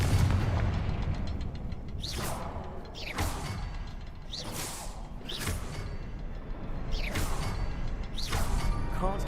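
The Confringo explosive spell in Hogwarts Legacy fires repeatedly, with about six whooshing blasts landing roughly every one to one and a half seconds over a constant low rumble of game ambience. No voices are heard.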